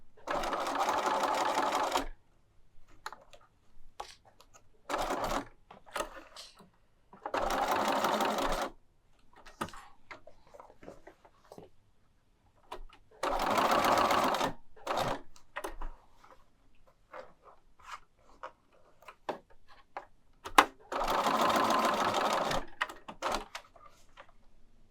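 A sewing machine stitches fabric menorah banners in several fast, buzzing bursts of a few seconds each, separated by quiet pauses filled with light clicks and handling of the cloth.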